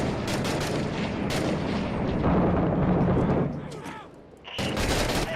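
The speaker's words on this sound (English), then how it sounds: "Let me throw a grenade." A grenade is thrown and explodes during a video game firefight. Dense, loud gunfire and booming blasts roll almost continuously, dip briefly, then surge back.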